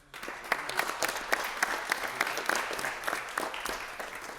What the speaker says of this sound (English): That's something to clap about.